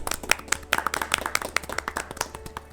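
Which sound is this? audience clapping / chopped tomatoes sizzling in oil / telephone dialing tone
audience clapping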